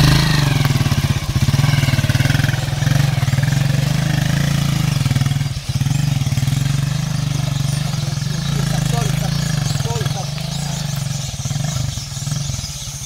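Motorcycle engine running steadily at a low idle-like drone on a steep, difficult dirt hill road in rural Cameroon, continuous and close, with a voice talking over it.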